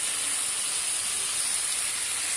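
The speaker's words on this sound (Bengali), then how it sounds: "ভাজিটা এভাবেই রান্না হবে, আমি ঢাকবো না, এভাবে নাড়বো মাঝে মাঝে" Teasel gourd (kakrol) bhaji fries uncovered in a pan with a steady, close, hissing sizzle throughout, unbroken and fairly even in loudness.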